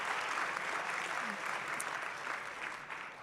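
Guests at a colorectal cancer research foundation gala break into sustained applause, a dense even wash of clapping from a large room, with faint voices mixed in.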